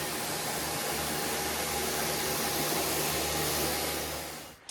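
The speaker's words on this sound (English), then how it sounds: "High pressure steam, you can't beat it." A high-pressure steam cleaner blasts engine parts for a Toyota LandCruiser 1KZ engine conversion, giving a steady, loud, close hiss and roar that holds unbroken for several seconds before cutting off at the end.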